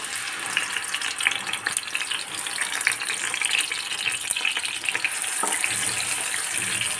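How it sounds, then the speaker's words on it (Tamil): Ground garlic, ginger and tomato paste frying in oil for a mushroom pepper fry, giving a steady, close sizzle that runs the whole time with a few stir scrapes and no talk. "அந்த விழுதை வந்து இந்த ஆயிலில் போட்டுருவோம்"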